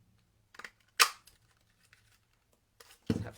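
Stampin' Up craft punch cutting paper flower shapes, giving a few sharp, separate snaps and crunches close by, with quiet rustling of paper between them and no talking.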